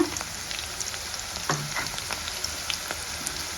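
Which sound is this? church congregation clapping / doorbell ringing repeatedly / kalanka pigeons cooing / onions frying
onions frying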